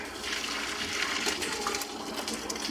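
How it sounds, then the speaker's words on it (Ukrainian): Water poured off cooked mussels in a kitchen, a steady close splashing rush with a liquid trickle that runs unbroken for a few seconds. "я зілью воду з мідії"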